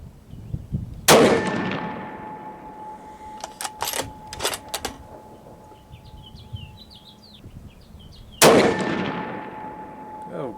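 Two loud, sharp rifle shots from a Savage 110T in 6.5 Creedmoor firing S&B tactical 140-grain ammunition ring out several seconds apart outdoors, with brief clatter and faint birdsong in between.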